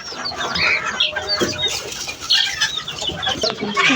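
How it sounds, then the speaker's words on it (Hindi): A big red rooster and nearby fowl cluck and chatter in a busy, close stream of short calls, fairly loud and continuous. "भाई ये वाला रेड मुर्गा कैसा है बाबा?"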